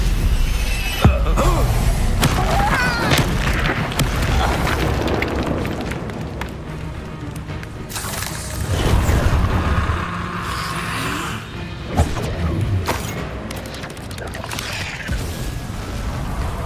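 Confringo blasting curses burst in Hogwarts Legacy, a run of booming spell explosions amid combat clatter, with several sharp impacts standing out over a loud, continuous rumble.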